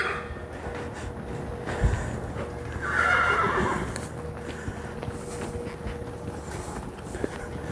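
A horse with EPM, being ridden during physical therapy, gives one clear whinny partway through, over steady outdoor background noise with faint hoof sounds.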